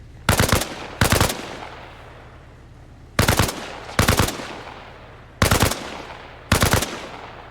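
Burst fire from a rifle in Arma Reforger rings out as three pairs of sharp, loud close-range shots, each pair a quick double crack, separated by short pauses with a faint low hum between bursts.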